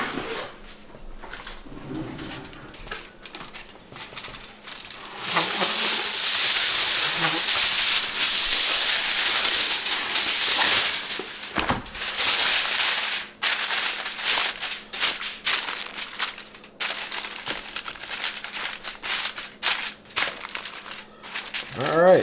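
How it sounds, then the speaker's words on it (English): Aluminum foil is torn from a roll and crinkled down over a pan of noodle-free keto meat lasagna, a loud, broadband rustling and crackling burst lasting several seconds, then softer intermittent crinkles, with a steady low hum underneath. "I'm actually going to take a piece of foil and cover it with foil"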